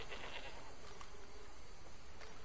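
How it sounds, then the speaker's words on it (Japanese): Goat bleating in the video game Red Dead Redemption 2, a short nasal bleat heard close over a steady ambient background. "ヤギ"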